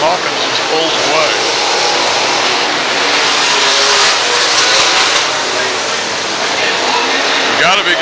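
Late model race cars roaring around the State Fair Speedway track, a steady loud wash of engine noise with cars passing, while an announcer calls the race over it.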